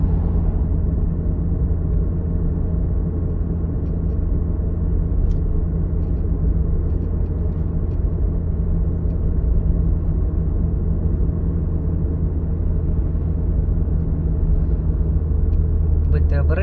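A car drives along a street during a driving test, its engine and road rumble a steady low drone throughout while people talk inside the cabin.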